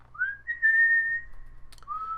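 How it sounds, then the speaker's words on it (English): A person whistles a tune from Kill Bill, a clear, steady melodic line with one long sustained note, then a brief pause before a short closing phrase, close and alone. "I was whistling a thing"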